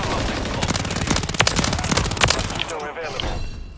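A WSP Swarm submachine gun with a 100-round drum fires in one long, unbroken burst in Modern Warfare 3, loud and close with rapid rattling shots over other battle noise.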